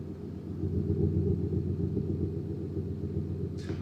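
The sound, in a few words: cold Audi V8 diesel engine rattle and bellow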